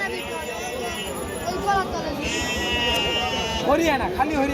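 A Haryana goat at a crowded goat market bleats several times, close and wavering, with the last cries coming in a quick run over a constant hum of crowd chatter.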